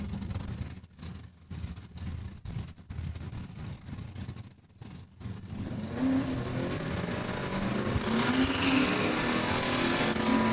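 Chevelle drag race run at Saskatchewan International Raceway, engine noise rumbling and then rising into a loud sustained roar as the car accelerates down the strip, growing stronger toward the end.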